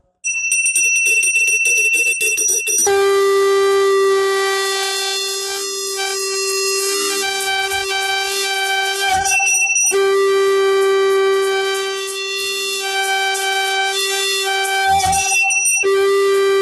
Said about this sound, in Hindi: शंखनादं कुर्यात्।